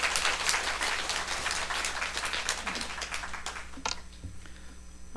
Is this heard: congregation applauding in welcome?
yes